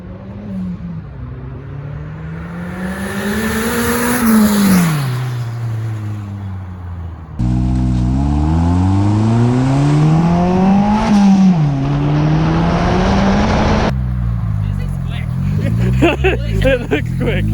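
A rear-wheel-drive Honda car running 1000cc injectors revs loudly and close, its engine pitch climbing and falling in repeated quick sweeps, with a brief pause before the revving resumes.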